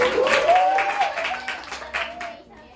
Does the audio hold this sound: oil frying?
no